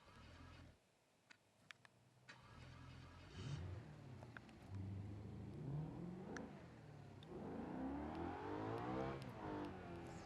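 A 3.9-litre sports car engine revs to about 8,500 rpm, climbing in pitch repeatedly and growing louder toward a high-revving whine as the car accelerates.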